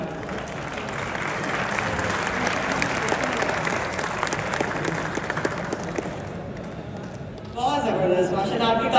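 An audience at an Urdu poetry mushaira applauds with sustained, dense clapping that fills the room for several seconds, then shifts abruptly into a louder burst of crowd noise near the end.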